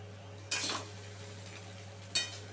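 Black pepper powder stirred into vegetable pulao in a pot: two short scraping bursts of a spoon against the pan, over a steady low hum.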